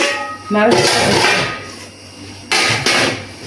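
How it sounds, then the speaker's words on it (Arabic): Metal pots clank and scrape as they're nested together, a few sharp knocks and a ringing clatter, with a voice speaking between them. "هنا بقى انا برص الحلل في قلب بعضها."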